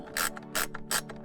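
Three quick bursts of a ratchet wrench clicking as 8mm screws are driven back into a Volvo XC90 during blower motor replacement, close and crisp with short pauses between.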